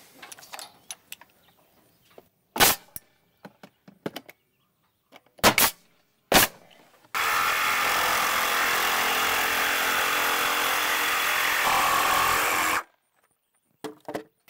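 A power jigsaw cuts through wood in one sustained, loud buzzing run of about six seconds, preceded by several sharp knocks and clatters of handling, then stops abruptly.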